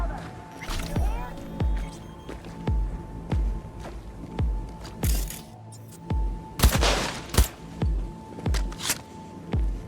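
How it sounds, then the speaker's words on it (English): Bursts of gunfire in the video game Cyberpunk 2077, a dozen or so sharp shots spaced irregularly, some in quick clusters, over a steady background tone with occasional game voices. "Heard shots."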